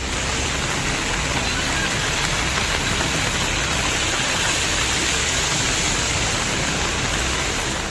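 Heavy, continuous monsoon rain in Haridwar, India, roaring steadily without letup, a dense hiss of water close by, on a flooded road to the railway station.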